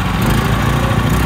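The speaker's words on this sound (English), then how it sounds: "The pump is started." A fire pump engine runs loud and close right after starting, a steady, unbroken mechanical drone with no pauses.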